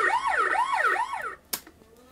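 Electronic wailing from a battery-operated kids' toy police bike siren sweeps up and down in quick cycles, then cuts off suddenly and is followed by a single sharp click, all close up.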